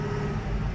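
A farm tractor's engine roars steadily and loudly at high revs for a brief moment, a dense low rumble with no pause.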